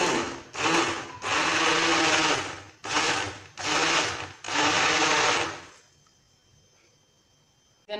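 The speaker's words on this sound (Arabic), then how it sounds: "وندير لها السكر ونبدا نخلط بالعقل" A blender blending strawberry juice with sugar in loud close bursts, several pulses of grinding whir separated by short pauses, then stopping and going quiet.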